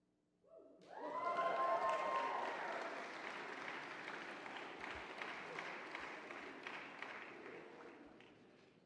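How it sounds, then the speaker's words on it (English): A university matriculation crowd bursts into cheering and whoops, then settles into steady applause that gradually fades, filling a large hall with sustained clapping. "Let's have a cheer for the class of"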